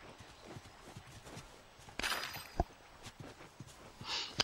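Horse hooves clopping in the video game The Last of Us, a few soft scattered steps with a louder burst and a sharp knock midway, fairly close and quiet overall.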